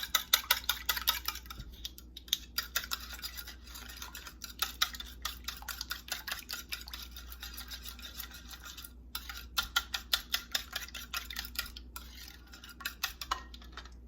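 Apple pie fritter batter being stirred in a bowl, a fast steady run of light clicking and scraping strokes close by, with no one speaking.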